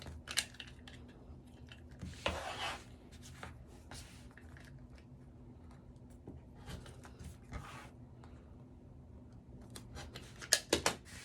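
Leather for a tall wallet cut around all four corners with a 3/8 inch corner template, giving a handful of quiet, brief snipping and scraping bursts spaced irregularly over a low steady hum.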